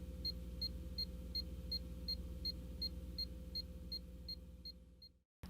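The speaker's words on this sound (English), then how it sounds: "The steady beeping sound indicates that the transmitter has a good low-resistance connection" A NaviTrack 10-watt cable locator transmitter beeps steadily about every third of a second, signalling a good low-resistance connection, over a low humming drone, then cuts off abruptly near the end.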